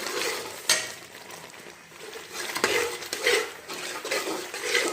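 Coconut milk halwa thickening in a pan, with a steady bubbling sizzle and repeated scraping strokes of a metal spoon against the pan, one sharp clank near the start.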